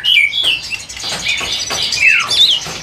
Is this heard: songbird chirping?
yes